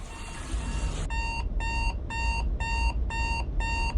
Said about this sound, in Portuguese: Você acorda quando o despertador toca